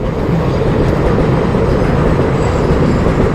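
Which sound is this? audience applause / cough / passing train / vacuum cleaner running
passing train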